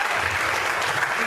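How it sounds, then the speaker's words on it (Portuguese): A church congregation claps in praise during an evening service, a brief burst of dense, continuous applause with no speech over it. "Vamos poder aplaudir o Senhor e exaltar a Ele nessa noite."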